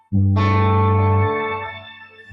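An electric guitar note swells into a bright, shimmering wash of shimmer reverb with high overtones, sustaining loudly before gradually decaying.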